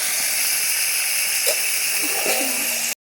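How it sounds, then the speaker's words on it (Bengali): Vegetables for shukto fry lightly in a pan with a steady, close hiss and sizzle, with a voice faintly audible over it before the sound cuts off abruptly. "সবজিগুলো আমি হালকা হালকা করে ভেজে নিচ্ছি"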